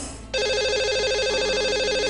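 A telephone rings for a radio show's lucky-caller call-in, a steady electronic ringing tone that starts abruptly after a brief quiet moment and holds loud and continuous to the end, with no talk over it.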